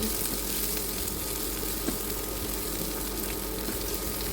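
Chopped garlic and chili sizzle steadily in hot oil while being stirred slowly, a continuous close frying hiss with no voices.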